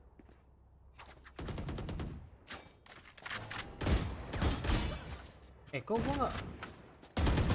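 Valorant deathmatch gunfire comes in rapid bursts and thumping volleys, loud and close, in a busy game mix. Someone talks over the shots.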